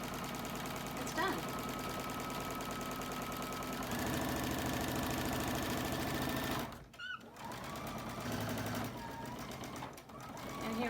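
A sewing machine stitches a fabric face mask in a steady, continuous whir that runs for most of the clip, with brief pauses near the end; no words are spoken.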